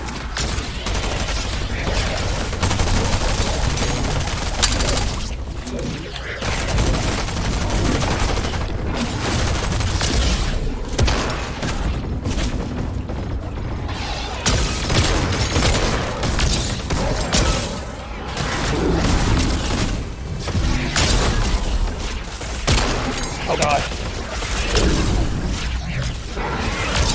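Sustained bursts of gunfire and heavy explosions in a monster shooting video game, loud and dense throughout with brief lulls, mixed with faint voices.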